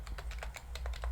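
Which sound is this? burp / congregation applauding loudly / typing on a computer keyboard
typing on a computer keyboard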